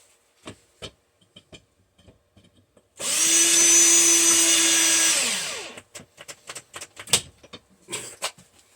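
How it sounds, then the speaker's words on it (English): A power drill with a dull bit spins up on the metal of an automotive HVAC blower motor for a few seconds with a whining buzz, then winds down. Scattered clicks and taps of handling come before and after. "Could I have found a duller drill bit?"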